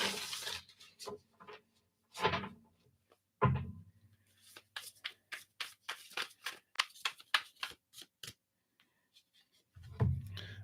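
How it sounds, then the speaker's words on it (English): Tarot cards being shuffled by hand at a live reading: quick papery riffles and soft patters in a dense run through the middle, close and fairly quiet, with a few heavier thumps of the deck at the start and end. "let's shuffle these up here, refresh these energies"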